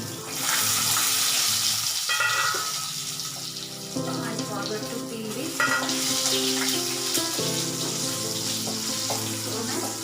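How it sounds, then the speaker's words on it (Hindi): Potatoes frying on medium heat for a spinach-potato dish, a loud continuous sizzle with running water and kitchen clatter mixed in, under occasional faint voice. "फ्राई करती हूँ मीडियम हीट पे पोटैटो को"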